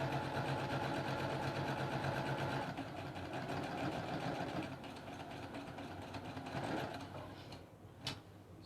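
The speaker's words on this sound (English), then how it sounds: "line up the foot with the drawn line, and sew down the other side." A sewing machine stitches a quilt block seam for half square triangles, a steady mechanical whirring hum that runs continuously, quiet and close, then slows and stops near the end with a small click.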